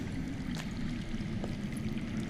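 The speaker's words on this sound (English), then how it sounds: "That's water. I hear water. From underground." Underground running water in the video game Game of Thrones by Telltale, a faint steady rushing flow with low murmuring gurgles and no talk.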